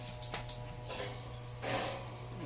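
A pet dog named Alexa whimpers softly at lunchtime, a few faint high whines and yips in short bursts over a quiet room with a low hum.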